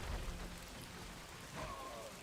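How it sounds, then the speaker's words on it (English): Rain falls in the Age of the Ring strategy game as a steady broadband hiss of drops. A low rumble sits underneath, resembling distant thunder, with no speech. "The rain is still falling just because it always falls"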